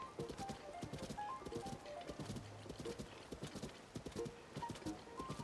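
Horse hooves clip-clop at a steady trotting rhythm in The Legend of Zelda: Tears of the Kingdom, close and clear with a brief whinny-like tone mixed in.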